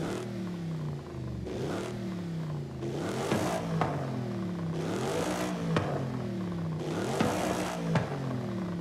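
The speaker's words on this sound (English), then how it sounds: "Oh, now this really sounds like a C63." A Mercedes C63 engine in Forza Horizon 5 revs repeatedly on its stock exhaust, rising and falling sweeps with sharp pops and crackles between each climb, loud and continuous.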